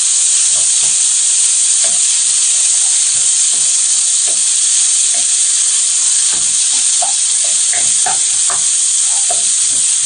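Garlic paste frying in a pan for Punjabi egg masala curry while being stirred, a loud constant hiss of sizzling oil broken by repeated scraping and clinking stirring strokes, no voices.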